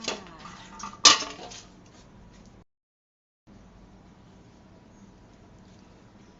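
A metal lid is set onto a cooking pot of catfish curry with pickled bamboo shoots, making one sharp clank near the start, followed by a faint rattle and then near silence.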